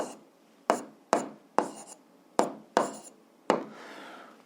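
A physics problem is written out by hand: seven quick, scratchy pen strokes land close by at uneven intervals, each a sharp stroke that fades fast, in a quiet room with no talking.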